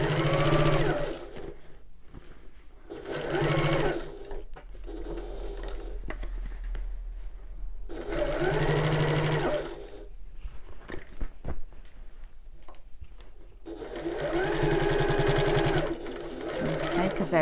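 A home sewing machine back stitches along the top edge of a small fabric bag, running in three loud bursts of rapid whirring with quieter pauses between them. Someone speaks quietly during the pauses.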